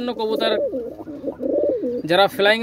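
Pigeons of fancy breeds kept for flying and sale coo in low, rolling calls at close range, with brighter, harsher bird calls breaking in at the start and end.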